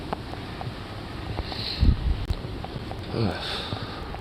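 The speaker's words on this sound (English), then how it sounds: "Super windy." Strong wind buffets the microphone in a steady roar, with low rumbling gusts swelling midway and again near the end.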